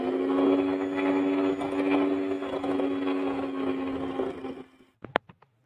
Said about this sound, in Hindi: तो इन दोनों चीज़ों को हम इलेक्ट्रिक बीटर की मदद से जो है वो मिक्स कर लेंगे अच्छी तरीके से